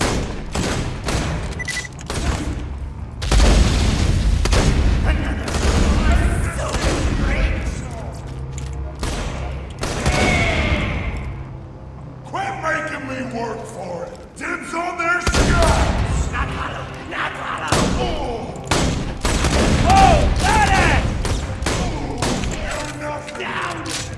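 Shotgun blasts ring out in a Borderlands 2 duel, heavy booming shots and thuds landing in irregular bursts across a busy firefight, some close and loud, with quieter stretches between volleys.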